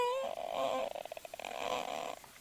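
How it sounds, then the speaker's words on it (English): A hyena cub squeals from inside its den in the wild, giving a series of high, whining cries with short rhythmic pulses in the middle, faint and heard from a distance. "very high-pitched squealing sounds."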